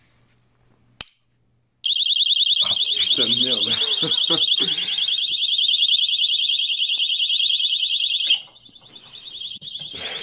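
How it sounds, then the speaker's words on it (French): A loud, continuous high-pitched electronic alarm blares for several seconds, with a frustrated voice briefly talking over it before it cuts out. "Il bip encore le bazar."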